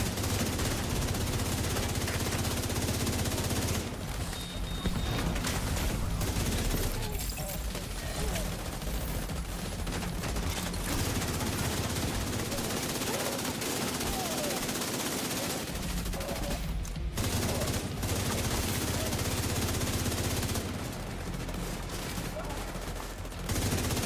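Automated turrets in The Division 2 rattle out sustained bursts of machine-gun fire over dense battle noise, loud and nearly continuous with short gaps, while a voice talks underneath.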